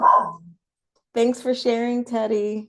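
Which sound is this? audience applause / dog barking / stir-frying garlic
dog barking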